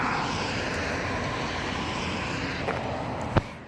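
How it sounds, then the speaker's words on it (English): A large airplane flies overhead, a broad steady engine roar filling the air outdoors near a high school siren site, with a couple of brief sharp knocks near the end. "A huge plane."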